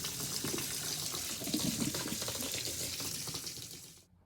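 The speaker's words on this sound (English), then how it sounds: "the stream of water is clearly not hitting the ball at the center" A stream of water showering down onto a ping pong ball, a steady close hiss and splatter like a running tap that holds evenly for about four seconds before cutting off abruptly.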